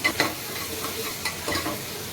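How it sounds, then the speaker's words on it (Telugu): Onion and tomato pieces are stirred and mixed in a hot pan for spicy mutton kheema, with a few quick scraping strokes over a soft, steady sizzle. "యాడ్ చేసుకున్న వాటిని బాగా మిక్స్ చేసుకోవాలి"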